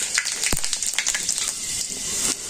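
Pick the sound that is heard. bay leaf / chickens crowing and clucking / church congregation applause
bay leaf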